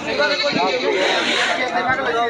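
Goats bleat repeatedly at a rainy Kalitala village livestock market, the calls close and overlapping, mostly beneath steady nearby talk.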